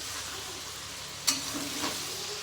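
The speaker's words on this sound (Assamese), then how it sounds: "মাংসখিনি ফ্ৰাই হৈছে অলৰেডি" Duck meat sizzles steadily in a pan, a soft continuous frying hiss with a single sharp clink of a utensil midway, close and without speech.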